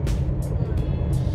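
A car travelling along the Curitiba–Foz highway gives a steady, loud road rumble and engine drone, with brief hissing whooshes of passing air or traffic at intervals.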